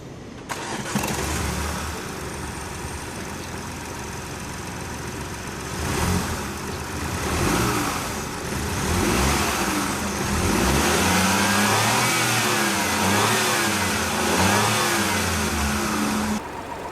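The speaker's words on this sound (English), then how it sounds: "It's not even a 4-cylinder, it's actually a 3-cylinder engine." A BMW X1's small three-cylinder petrol engine cranks and catches, then idles with a rough, uneven, diesel-like throb and a few light revs, close by with no talking.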